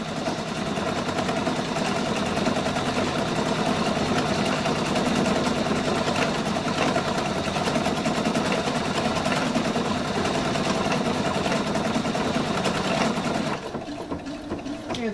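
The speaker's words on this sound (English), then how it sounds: "I'm going to hit my scissor button so that when it finishes this particular pattern, that the machine will just cut it" A Pfaff Quilt Expression 720 sewing machine stitches a decorative pattern with a fast, steady mechanical whir and needle chatter running continuously, then slowing and stopping near the end as the thread cutter finishes.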